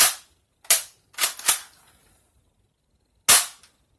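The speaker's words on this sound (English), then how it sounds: "it was the bottom barrel that fired" A Dart Zone Renegade toy shotgun blaster fires, giving sharp, close snapping pops: a few clustered cracks followed by one more after a short pause.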